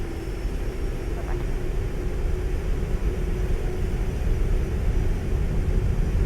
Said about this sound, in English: Initiate takeoff